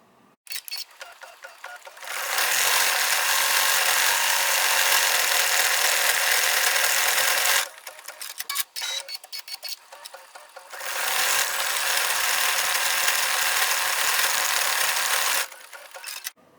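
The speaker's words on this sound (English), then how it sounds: "Change the thread to brown, and we're stitching the red and white mugs cocoa fill." An embroidery machine stitching a brown thread fill on a red and white mug design runs in two long stretches of rapid, steady mechanical buzzing. Between them comes a short pause with clicks and thread-change sounds, loud and close.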